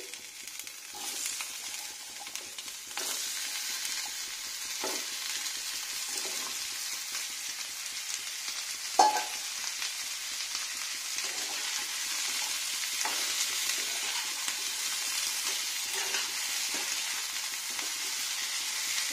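Ridge gourd and potatoes sizzle steadily in a pan, a continuous close frying hiss broken by occasional scrapes and clinks of stirring, with no talk.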